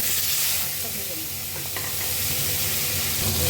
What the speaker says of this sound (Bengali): এবার চিংড়ি মাছটা আমি ভেজে নেব